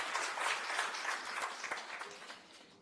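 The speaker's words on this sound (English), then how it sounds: "it deserves a hand of applause" Audience applause at the launch of Miss Namibia and Miss Teen, a dense wash of many hands clapping that fades gradually over a few seconds, moderately distant and somewhat faint.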